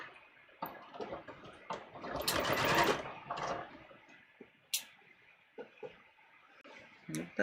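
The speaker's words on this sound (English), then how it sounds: "So I am going to just stitch down across center in this direction." A sewing machine stitches down a muslin facing in short, uneven bursts, quiet ticking needle runs broken by louder fabric rustling and handling sounds close by.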